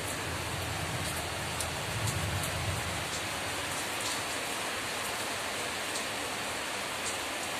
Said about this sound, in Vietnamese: Mưa trắng trời luôn.